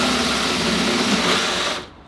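A power drill fitted with a hole bit whirs at high speed into car body metal on a Subaru-swapped Porsche 911 build, a loud, steady buzzing grind that cuts off abruptly near the end.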